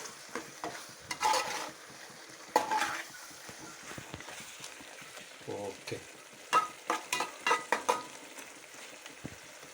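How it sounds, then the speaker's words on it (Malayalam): Kannur-style naadan chicken masala fries in a pan and is stirred, with a steady sizzle, scattered spoon scrapes and a run of quick rhythmic stirring strokes toward the end. "ഒരു മൂന്ന് മിനിറ്റ് കൂടി ഇളക്കി കൊടുത്താൽ ചിക്കൻ സൂപ്പർ ഫ്രൈ ആയി"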